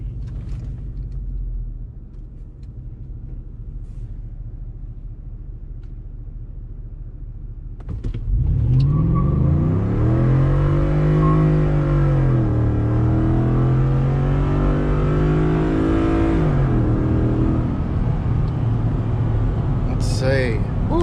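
Custom-tuned Ford F150 pickup launching hard from a stop, tires spinning, its engine roaring and climbing through the revs, a quiet idle first, then a loud sustained pull with a gear change and a voice talking over it.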